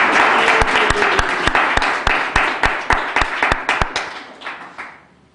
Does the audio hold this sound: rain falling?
no